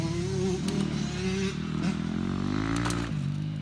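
A 2011 Yamaha YZ250F four-stroke dirt bike is kick-started and runs close by with a steady, throbbing engine note that swells and dips slightly, with a voice faintly in the background.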